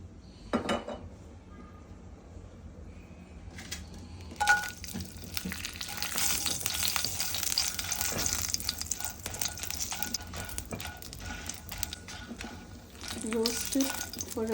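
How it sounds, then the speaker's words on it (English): Kashmiri red chilies dry roasting in a little ordinary cooking oil in a pan, with a steady soft sizzle under frequent clinks and scrapes of a utensil against the pan. A faint voice is heard early on. "Now we'll dry roast the Kashmiri red chilies"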